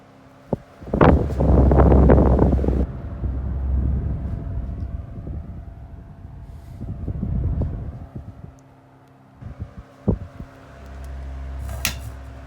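Collectible electric fan running on high and oscillating, its hum broken by bursts of rattling and buzzing from a loose badge, with quieter stretches between.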